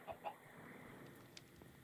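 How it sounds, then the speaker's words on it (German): A Minecraft chicken gives a couple of soft, quick clucks near the start, faint and close over quiet game ambience. "Es gackert mir, wenn ich schlafe, immer ins Ohr."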